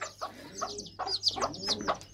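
A hen clucks repeatedly while feeding her eight chicks a growth-boosting feed mix, short close clucks in an uneven rhythm with faint chick peeps mixed in.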